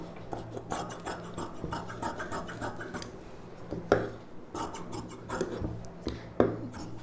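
Scissors cut through silk saree blouse fabric for a puff-sleeve blouse, making close, repeated rasping snips and scrapes in an uneven rhythm against a faint background hum.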